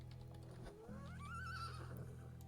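A horse in the video game Medieval Dynasty lets out a single quavering whinny, faint and alone over a soft steady background.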